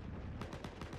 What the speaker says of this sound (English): I love the way that the gun shooting is balls